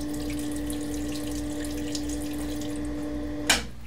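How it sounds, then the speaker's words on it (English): Drill press coolant pump running steadily with flood coolant flowing, a constant low hum and watery wash throughout, ending in a brief louder splash or clunk near the end. "let's do a coolant check real quick with the pump. Make sure we got flood coolant."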